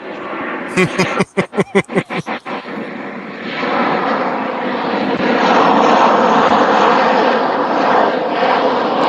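A Southwest Airlines jet passes overhead, its engine roar swelling into a loud, sustained rumble that fills most of the stretch, preceded by a few sharp rhythmic knocks or taps nearby.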